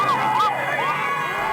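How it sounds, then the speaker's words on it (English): Crowd of supporters chanting outside the Baraka police station, a loud burst of many voices with rising and falling shouted cries, close and brief. "his supporters followed in busloads, chanting the cry of Wiru, a common expression used to describe power"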